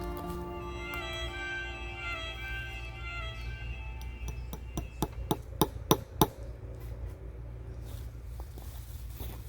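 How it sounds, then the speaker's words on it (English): A series of sharp hammer blows drive nails into wood in quick succession, about eight crisp knocks, over a low steady hum in a quiet space. "Got the nails, the hammer, and the hammer this in."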